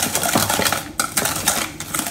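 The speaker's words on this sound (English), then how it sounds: "I'll use a whisk to mix it well." A whisk clatters rapidly against a bowl while mixing chocolate chip cookie batter with vanilla extract, producing a dense run of close metallic ticks and scrapes with no talking.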